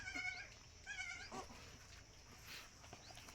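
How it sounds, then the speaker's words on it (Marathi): A male goat, a buck, bleats twice in quick succession close by, each a short wavering cry, followed by quieter rustling farmyard background. "हे बघा बोकड कसा बोकड आहे"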